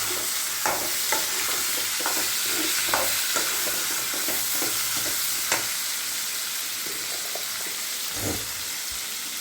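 Chopped tomatoes fry in a pan over onions that have already softened, with a steady sizzle throughout and a spoon or spatula stirring and scraping at irregular intervals, no voices.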